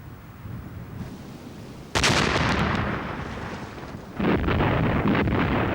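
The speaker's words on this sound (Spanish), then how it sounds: "la artillería alemana golpeaba duramente las defensas francesas" German artillery fire during the 1940 Blitzkrieg against French defences, with a heavy sustained rumble that erupts into a loud blast at about two seconds and surges again later, booming and dense throughout.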